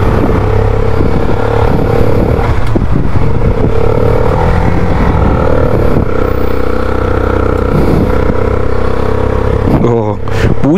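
A motorcycle engine runs and revs with a deep, throaty exhaust note, loud and continuous, while someone talks over it.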